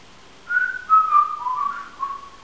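A finger whistle used as a warning signal rings out alone in a series of short, loud, shrill blasts that slide slightly in pitch, recalled from occupied Kraków.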